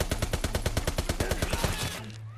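Wimmersperg rifle in Call of Duty WW2, firing rapidly: about fifteen evenly spaced, punchy shots in a fast steady rhythm, close and loud, ending in a brief mechanical clatter and quiet hum.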